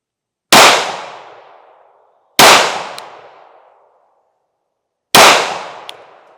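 Three sharp gunshots from a Sig P365 Fuse pistol fired outdoors into woods, each a loud crack with a long decaying echo, spaced a couple of seconds apart with silence between.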